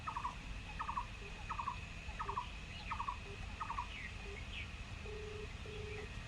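Phone ringback during a prank call, a repeated electronic ring tone in short pulses, faint and steady over background hiss, ending with a couple of longer flat tones.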